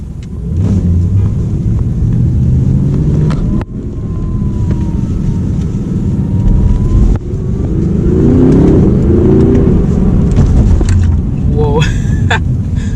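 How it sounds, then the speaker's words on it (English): Audi R8 with a V8 accelerating hard from inside the cabin, engine drone rising through gears with quick dual-clutch shifts breaking the pitch, wind noise throughout and a voice speaking briefly near the end. "The shifts are so quick because of the dual clutch."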